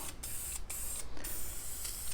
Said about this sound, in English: So instead we just fast forwarded to me spray painting.